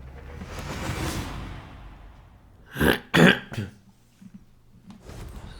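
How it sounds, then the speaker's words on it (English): A few harsh coughs or throat clears come in a quick burst near the middle, close and fairly loud, between quieter stretches of breathy noise. "I'm coughing."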